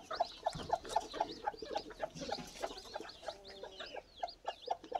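Brooding hens with newly hatched chicks cluck repeatedly in a quick, rhythmic series of short calls, close by, with some softer bird chatter in the background.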